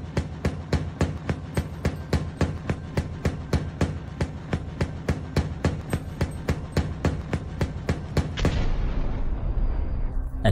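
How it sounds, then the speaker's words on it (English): Battlefield footage from Ukraine of a T-90M tank and a Bradley fighting vehicle carries a steady, rapid series of evenly spaced heavy booms, followed by a louder, longer blast that rumbles and fades out at the end. "And here comes another explosion."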